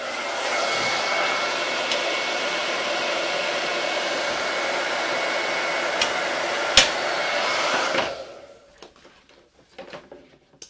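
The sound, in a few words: hair dryer blowing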